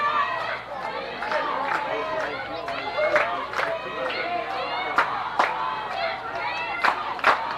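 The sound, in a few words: crowd chanting "Bears" at a baseball game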